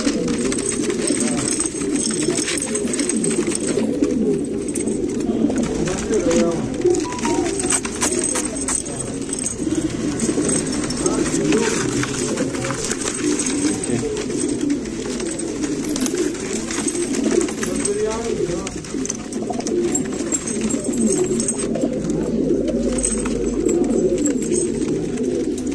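Roller pigeons from Pakistan cooing steadily in a flock, overlapping low throaty coos that run on without pause for the whole stretch, close and fairly loud.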